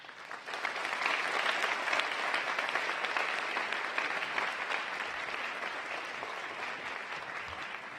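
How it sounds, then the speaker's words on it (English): An audience at a city's State of the City event breaks into applause, a broad, steady wash of clapping that rises quickly and holds at a moderate distance for several seconds. "Please give a round of applause for District 10 Faith in Action."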